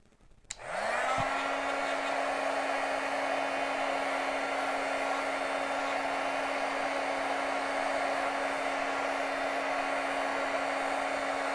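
A handheld heat tool blasts steadily to dry ink on cardstock, switching on with a quick ramp and then holding one loud, constant whirring roar with a fixed tone for over ten seconds, close and alone.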